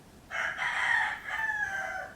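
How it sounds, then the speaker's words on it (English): A rooster crows in one loud, drawn-out cock-a-doodle-doo, split into two long phrases, nearby and alone against a quiet background. "That's what the rooster says about it."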